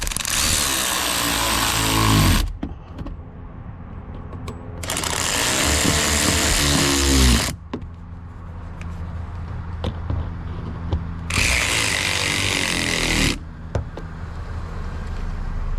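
Power tool tightening the mudflap bolts on a 2019-2025 Chevy Silverado 1500, three loud sustained whirring bursts separated by short pauses, with no talking.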